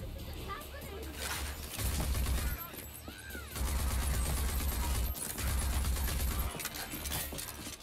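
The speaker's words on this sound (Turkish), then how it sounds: "Şuradan da bir silah sesi geliyor." Gunfire in the video game Rage 2, a dense, continuous rattle of bursts and shots under game noise, loud and steady throughout.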